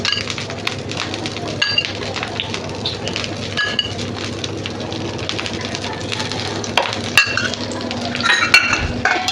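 Appe, dumplings of batter made from ration rice, frying in oil in an appe pan: a steady, close crackling sizzle with occasional light clinks throughout.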